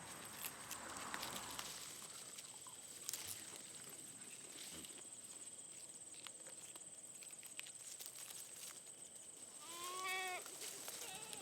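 Goats grazing kudzu on a plot of land, heard faintly and at a distance, with a clear bleat rising near the end over a quiet outdoor background with soft shuffling steps.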